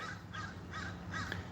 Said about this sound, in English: See how smart these crows are?